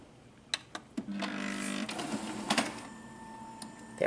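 An Epson EcoTank ET-2550 all-in-one printer runs through its mechanical cycle, with sharp clicks and a whirring paper-feed motor rising and falling over about four seconds before a final clunk.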